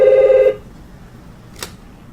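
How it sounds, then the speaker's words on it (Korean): A telephone rings with a loud electronic tone for about half a second, then cuts off, followed by a brief click or tap in near silence. "근데 이거 말씀드리려고 하는데 콜이 왔어요."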